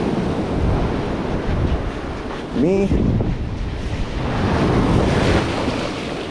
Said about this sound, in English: it feels like the damn waves are back to what they were like yesterday.